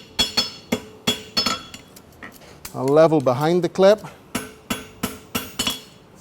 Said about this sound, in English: I'm using the back corner of the hammer and I'm going right up the middle of the material.